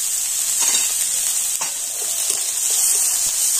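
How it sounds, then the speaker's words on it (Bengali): Lightly salted chopped vegetables fry gently in a pan, a continuous bright sizzle with soft stirring scrapes throughout, fairly close and steady, with no talking. "আর এখন আমি সবজিগুলো একটু হালকা করে ভেজে নেব।"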